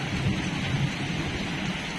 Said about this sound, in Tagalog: At talagang tuloy-tuloy na itong ulan.